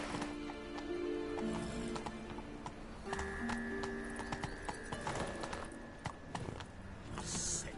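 In The Witcher 3, the horse Roach's hooves clop up stone stairs in uneven steps amid game ambience and music, with a brief whinny-like snort.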